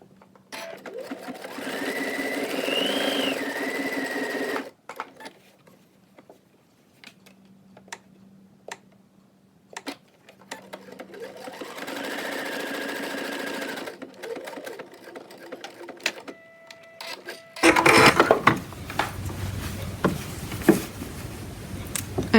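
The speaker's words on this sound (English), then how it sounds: "I am going to do a triple stitch so it has so it's stronger" A sewing machine runs a triple stitch along a pleated fabric face mask in two steady whirring bursts separated by quiet pauses and handling clicks, followed by louder rustling and clatter near the end.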